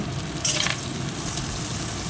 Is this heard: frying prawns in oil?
yes